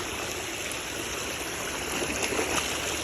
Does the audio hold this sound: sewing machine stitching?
no